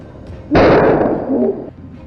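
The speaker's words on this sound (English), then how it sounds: "Everything happened in a split second, but luckily, the gunshots scared it off" A sudden loud blast of gunfire aimed at a wild boar on farmland, one sharp burst ringing out and decaying over about a second, close and prominent against a quieter background.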